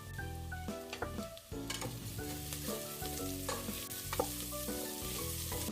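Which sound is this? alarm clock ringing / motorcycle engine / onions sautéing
onions sautéing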